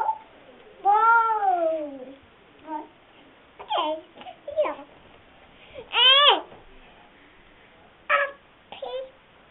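A kitten or cat meowing in a series of short, rising-and-falling cries spaced a second or two apart, fairly close, with a child's babble mixed in among them.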